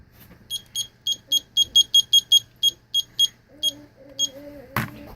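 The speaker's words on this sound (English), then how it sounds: "we set the timer back for 15 more minutes" A kitchen oven timer beeps in a rapid run of about a dozen short, bright, evenly spaced beeps, followed by a low tone and a brief knock at the end.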